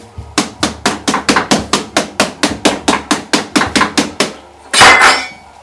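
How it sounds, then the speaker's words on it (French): A plate set over a hot pineapple cake is rapped to unmould it, giving about eighteen sharp, evenly spaced taps up close, then a brief louder clatter. "Maintenant, vous allez tourner, frapper un peu dessus."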